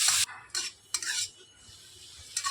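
Potato stirred in a pan with cumin and fennel seeds, a few sharp close metal scrapes and clinks of a spatula separated by quieter pauses, with a faint sizzle underneath.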